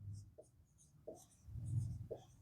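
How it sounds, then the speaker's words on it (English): Handwriting with a pen on paper while working through a math proof, making soft, faint scratching strokes in short bursts against a quiet room hum. "So let me write the given thing."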